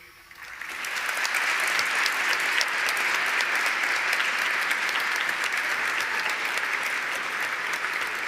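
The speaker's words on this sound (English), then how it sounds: "Seniors, please take a moment to applaud these people." Graduating seniors and the crowd at a high school graduation ceremony in an arena break into sustained applause, swelling quickly and holding as a dense, even wash of clapping.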